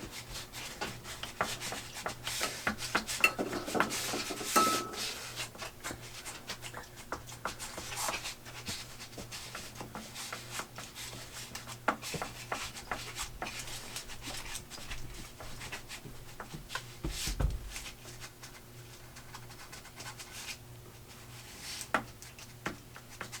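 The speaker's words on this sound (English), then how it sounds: "press that crust mix down into the bottom of the springform pan, and it can go up the side just a little bit" A soft, steady rubbing and scraping goes on up close as cheesecake crust mix is pressed into the bottom of a springform pan. Faint low hum and occasional small knocks sit under it, with no talking.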